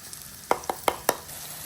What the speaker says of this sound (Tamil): வெங்காயம் வதங்கி கொண்டிருக்குது.